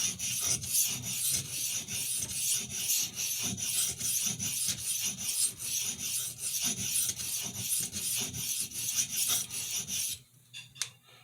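A kitchen paring knife is stroked against a sharpening stone in a fast, steady rasping rhythm close up, with repeated scraping strokes that continue for about ten seconds before stopping abruptly.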